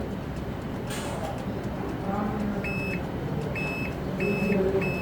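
Multimeter continuity tester beeping while probing laptop motherboard pins, giving several short high electronic beeps in quick bursts over a noisy room background.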